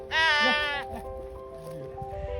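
A sheep gives a loud, close, wavering bleat on a mountain trek trail in Bageshwar district, followed by fainter animal sounds and outdoor background noise.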